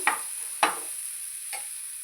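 Onions frying in a pan, a faint steady sizzle with three short stirring scrapes, no talk.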